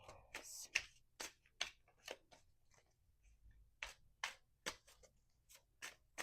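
Repeated short riffling bursts of cards being shuffled, close and crisp, with brief pauses between each pass; no talking.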